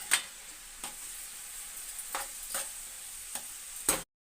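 Chopped onions frying in a pan for shark fish curry, a faint steady sizzle broken by several sharp scraping stir strokes spaced roughly half a second to a second apart, with no talk.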